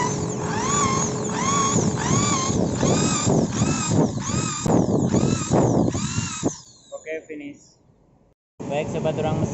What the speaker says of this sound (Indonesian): selanjutnya kita ngebor memakai mal ya